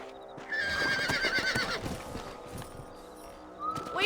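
Horses in the Red Dead Redemption video game whinny loudly up close, with clip-clopping hoofbeats and other game sounds continuing underneath, then a shorter rising whinny at the end.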